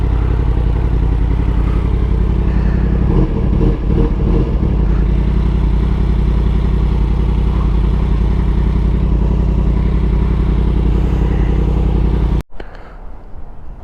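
A motorcycle engine idles and rumbles steadily up close on arrival at a shopping complex, with some clatter partway through, then cuts off abruptly near the end, leaving quieter background noise.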